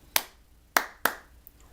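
Three sharp hand claps, two spaced apart and then a quicker pair, mark out a bum-diddy strumming rhythm for a banjo tune, close and dry with nothing else around them.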